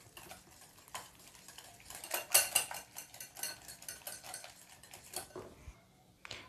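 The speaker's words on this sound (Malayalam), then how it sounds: "ഇത് നല്ലോണം ഒന്ന് മിക്സ് ചെയ്യുക." Egg, sugar and vanilla essence whisked together in a bowl for banana pancake batter, a utensil clinking and scraping in quick irregular strokes, moderately close, peaking briefly in the middle.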